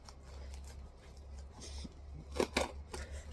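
Paper crackling and tearing as a folded, taped-over envelope is pulled open, soft rustles building to a few sharper rips near the end, close and fairly quiet.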